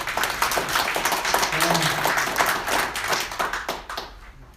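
At an emergency press conference held by civic groups opposing the Korea-Japan military intelligence agreement, a gathered crowd claps steadily in a dense, continuous patter that carries on throughout and tapers off near the end.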